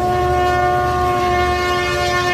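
An American wedge snow plow train on rails sounds a loud, sustained multi-tone horn chord that holds steady throughout, with a rumbling undertone beneath it.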